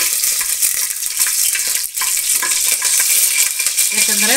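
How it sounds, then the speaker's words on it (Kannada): Chopped green chillies crackle and sizzle loudly in a hot oil pan for egg biryani, with a few clinks of a stirring utensil near the end. "3 ಹಸಿಮೆಣಸಿನ್ಕಾಯಿ ಹಾಕ್ತಾ ಇದ್ದೀನಿ. ಅದು ಒಂದು ಸ್ವಲ್ಪ ಹಾಗೆ ಫ್ರೈ ಆಗಲಿ"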